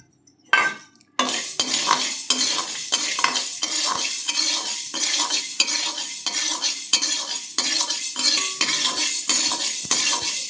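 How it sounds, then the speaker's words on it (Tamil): Fenugreek seeds being dry-roasted in a pan for rasam powder, brisk rhythmic stirring with a metal spoon clinking and scraping the pan in quick strokes over a light sizzle, loud and close, no talking. "வெந்தயம் வறுபட்டுருச்சு."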